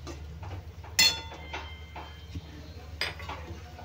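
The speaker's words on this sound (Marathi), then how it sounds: "आता हे मिक्स करून घेऊया एकदम छान" Spoon scraping and clinking against a pan while stirring egg keema masala with turmeric, with a sharp metallic knock near the start and another softer one later, over a low steady kitchen hum.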